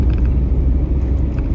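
A car drives along with a steady low engine rumble filling the cabin, loud and continuous over a short stretch with no talking.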